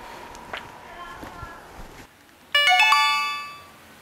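A mobile phone suddenly rings with an incoming call, a bright chiming melodic ringtone that starts loud and close, then fades out, following quieter indoor room sounds.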